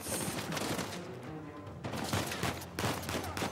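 Enemy gunfire in the Uncharted 4 video game, dense bursts of rapid shots in a few clustered volleys, fairly faint and without talk.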